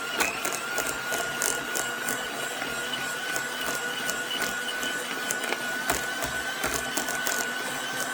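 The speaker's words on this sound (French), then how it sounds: "Et hop, encore un petit coup de fouet. Fouet électrique." An electric whisk whips a homemade balm of shea butter and coconut oil, making a steady close whirring drone laced with light rattling clicks throughout, and no one speaks.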